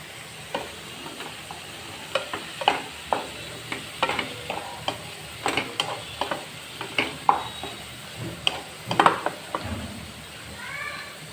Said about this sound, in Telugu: ఇప్పుడు టమోటా వేసుకుందాము